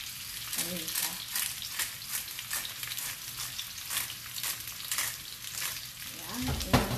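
Zucchini sizzling and frying steadily in a pan for pasta, a constant close crackle with a few brief bursts of stirring, ending in a louder clatter near the end.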